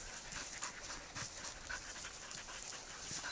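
Norwegian Elkhound dogs pant on an off-leash hike outdoors, a quick, rhythmic breathy huffing at close range, fairly soft, with a few faint rustles and no talking.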